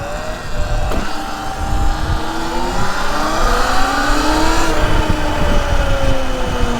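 Sur Ron electric dirt bike with a 72-volt battery upgrade accelerating hard at wide open throttle, a loud rising electric motor whine that climbs steadily in pitch over several seconds with wind and road rumble underneath, no talking.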